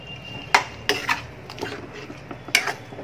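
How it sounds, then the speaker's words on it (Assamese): A spoon stirs chole paneer with a sprinkle of paneer masala in a pan, giving a few sharp metallic clinks and scrapes against a soft background hiss, with no talking. "এতিয়া মই ভালদৰে লৰাই দিম"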